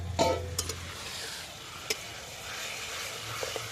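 Mutton frying in fat with spices on a clay stove at an outdoor picnic, a steady close sizzle with occasional stirring clinks and scrapes, no talk.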